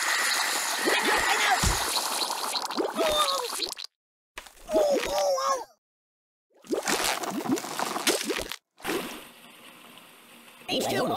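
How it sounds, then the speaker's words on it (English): In the video game Kick the Buddy, water gushes and splashes in a steady, sloshing stream, broken by short gaps, while an excited voice talks over it. "Oh, water everywhere!"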